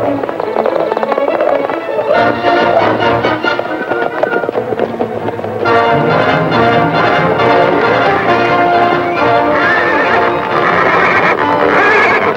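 A horse in a 1946 Western musical film whinnies amid a busy, loud soundtrack of music and bell-like tones that runs continuously throughout.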